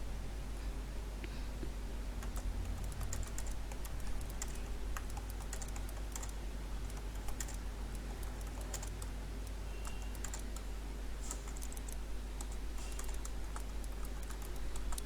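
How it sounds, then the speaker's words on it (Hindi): Steady typing on a computer keyboard, a question being entered on a desktop or laptop, with continuous quiet key clicks throughout over a faint background hum and no talk. "यहाँ पे जैसे आपने कोई भी क्वेश्चन टाइप किया"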